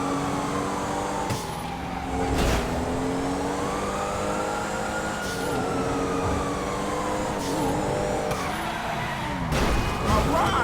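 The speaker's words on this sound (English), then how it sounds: "Then I push the accelerator even harder." A car in the Grand Theft Auto video game accelerates hard through city traffic, its engine revving with rising and falling pitch over continuous loud traffic noise, with a siren-like wail and sharp impact bursts.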